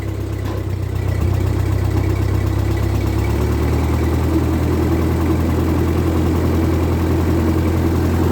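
A 1948 Ford 8N tractor idles just after a cold start, its low, steady engine rumble running continuously and loud. The note drops slightly a few seconds in, then settles into an even idle.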